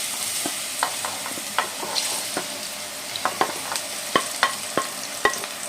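Banana pieces sizzle in hot ghee in a pan, a steady frying hiss broken by repeated light scraping taps of a stirring spoon, close and moderately loud.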